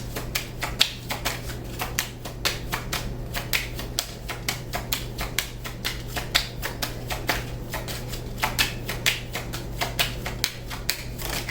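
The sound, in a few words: tarot cards being shuffled and drawn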